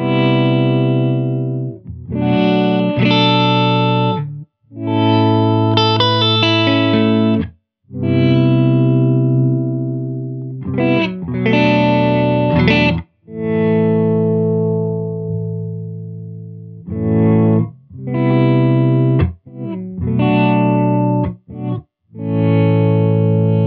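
Electric guitar through the swell effect of a Hologram Chroma Console pedal: notes and chords fade in softly and bloom with distortion and chorus, played alone in several separate phrases with short gaps.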